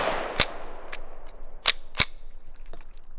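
A .22 Ruger 10/22 rifle fitted with a Silencer Co. Warlock suppressor fires several sharp, suppressed cracks at irregular intervals, a couple louder than the rest, in an open outdoor setting with light ambient noise between them.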